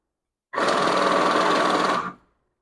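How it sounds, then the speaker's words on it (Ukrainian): A NanoCash Link banknote counter runs through a stack of banknotes in one continuous, loud mechanical whir lasting about a second and a half, then stops abruptly. "в режимі калькуляції ми будемо послідовно задавати номінали і рахувати пачку різних банкнот"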